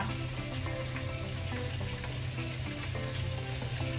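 A steady sizzle of pork frying in its own fat, continuous crackling with a low hum underneath.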